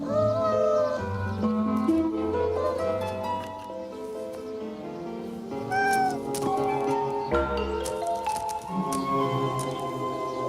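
A kitten meowing repeatedly in a series of high, wavering cries, close and fairly loud, some overlapping, with a soft musical backing underneath.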